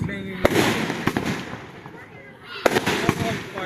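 Fireworks exploding at a city display, two sharp loud bangs about two seconds apart with crackling bursts in between and voices chatting faintly underneath.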